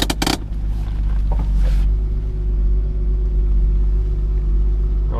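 A 1978 Datsun 280Z engine idles steadily and close, a deep even low rumble after a brief clatter at the start, running cold with no one talking.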